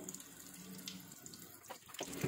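Faint running tap water splashes into a sink as freshly picked, home-grown kumquats are rinsed, a continuous soft gush with small splashes and no voices.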